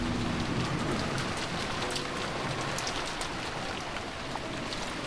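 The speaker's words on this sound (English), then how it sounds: "there was no reply, only the howl of the wind and rain" Heavy rain with wind in the Umineko visual novel, a dense, loud, unbroken downpour that stays steady throughout with no voices.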